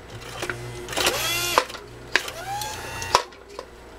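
A Swedish Beauty sewing machine struggles to stitch through thick Biothane coated webbing, its motor running in uneven bursts with sharp clacks and stalls as the belt slips, close and fairly loud with no talking.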